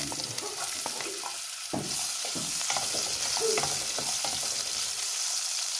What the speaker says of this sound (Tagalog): Igisa na natin ang onion.